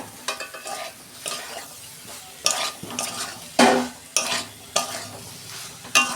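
Potatoes are tossed into a soybean curry with spices frying in the pan, giving loud, close bursts of sizzling. Repeated stirring scrapes come in uneven strokes about every second, with no talking.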